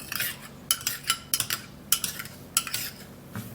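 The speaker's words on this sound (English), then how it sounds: "I will have to mix it really well" Egg and aloe vera are mixed in a bowl with a utensil, giving a rapid series of close, bright clinks and scrapes in uneven bursts, with no talking.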